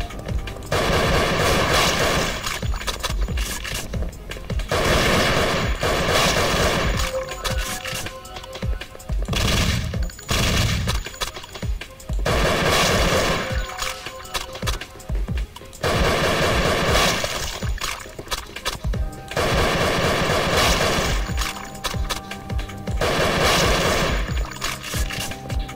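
Rapid, loud video-game gunfire from Thing Thing 4 rattles in dense automatic bursts almost without pause, layered over a thick background of game music and effects.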